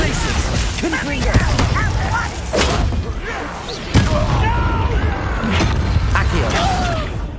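The Confringo spell exploding in Hogwarts Legacy amid combat, loud thuds and a sharp blast around four seconds, with chirping creature cries and effects layered over a busy battle.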